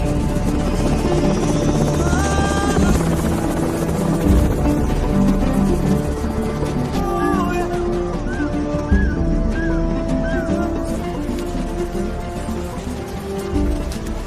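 A helicopter in a French-language war film about rebels and soldiers, its steady rotor roar running loud and continuous under a busy mix of other sounds, with no speech.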